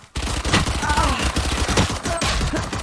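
Gunfire in Valorant rattles in rapid, continuous bursts of sharp shots filling the whole moment, loud and close, with faint voices now and then underneath.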